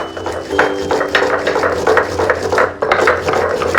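Shukto spice paste being ground by hand on a stone, a loud, close, steady rhythmic rasping and scraping with repeated back-and-forth strokes and a brief pause midway.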